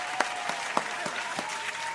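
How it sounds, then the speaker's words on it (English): Applause from an audience at a talk show, steady clapping throughout with a few sharper, louder claps standing out; no voices over it. "Round of applause to mail call."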